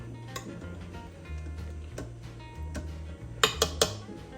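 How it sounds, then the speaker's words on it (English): A spoon stirs sour cream melting in a multicooker pot, giving soft scraping under a low hum and ending in three sharp metallic clinks against the pot. "So I'm just going to stir this and let this melt in here."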